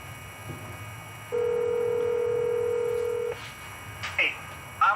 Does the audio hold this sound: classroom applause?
no